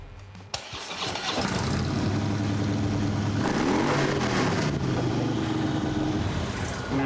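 A Harley motorcycle engine cranks over and catches, then settles into a loud, steady, close-up idle with a deep rumbling throb and a brief rev partway through.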